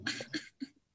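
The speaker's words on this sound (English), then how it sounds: "let me finish coughing" A person coughs three times in quick succession, close and fairly loud, with each harsh burst briefer and quieter than the one before.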